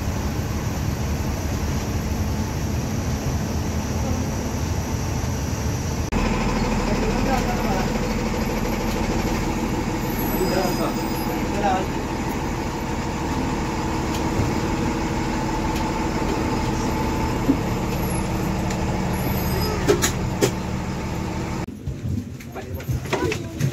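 A Hirkani bus engine droning steadily on a highway, low and constant from inside, then cutting out near the end as the bus stops; faint bird calls and some talk over it.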